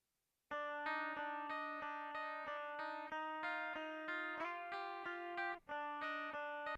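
Dry DI guitar signal with no effects, a series of clean picked chords struck in a steady rhythm with a brief gap near the end, close and alone.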